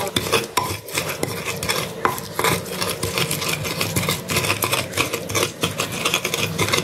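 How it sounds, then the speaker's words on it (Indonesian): Sambal geprek spices are ground with a stone mortar and pestle, a steady run of close, loud scraping and knocking grinds with no talk over it. "Ini kita ulek-ulek lagi sebentar sampai bumbunya itu menyatu."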